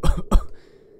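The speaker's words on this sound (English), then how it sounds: "Cough, cough." Two quick, close coughs in succession, sharp and dry, followed by a brief fading tail and quiet.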